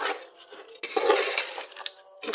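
A spoon stirs chicken with a little oil and seasoning in a metal pot, making close scraping and clattering sounds against the pot for a couple of seconds.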